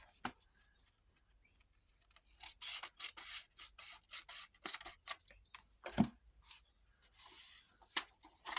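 Scissors trim an overhanging edge of a paper book page for a junk-journal pocket. Quiet, crisp snipping and rustling comes in short, irregular cuts, close by, with no talk.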